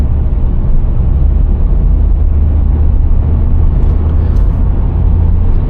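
A Subaru WRX (VB generation) accelerates through third gear, heard from inside as a loud, steady low engine drone with constant road and wind roar and no talk.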